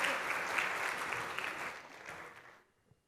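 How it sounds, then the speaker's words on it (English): A conference keynote audience in Mumbai applauds to welcome a speaker to the stage, a dense steady clapping that fades out and stops near the end. "please give a big round of applause to Steve and welcome him on the stage"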